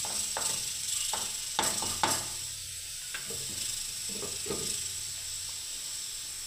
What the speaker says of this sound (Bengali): এইদিকে দেখুন ডালনার জন্য মশলার গ্রেভিটা হচ্ছে বন্ধুরা, এখনো হয়নি, তেল বের হয়নি বন্ধুরা